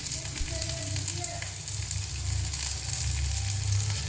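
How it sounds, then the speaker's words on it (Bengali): Onion and chopped green chilli frying in a pan for a mixed-vegetable paratha filling, a steady close sizzle and crackle running throughout with a low hum underneath and no interruption. "পেঁয়াজ দিলাম একটা একটা সব আস্তে আস্তে দিলাম পেঁয়াজ তারপরে দেখো লঙ্কা কুচি"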